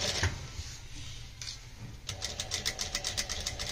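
A sewing machine stitches the edge trim of a Punjabi suit near the zip area, a steady mechanical whir with rapid needle ticking that steps up into a busier, pulsing run partway through, close and fairly quiet.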